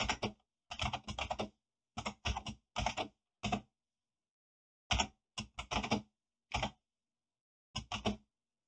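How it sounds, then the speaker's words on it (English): Bursts of computer keyboard typing during motor drive setup software work, close and clear, in several short clusters separated by silent pauses, with no talking. "Let me type this in now."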